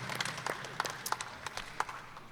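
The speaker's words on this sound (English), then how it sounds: "Let's give them a round of applause" An audience at a local candidates forum gives a short round of applause for two community members. The sparse, separate claps are fairly quiet and fade out after a couple of seconds.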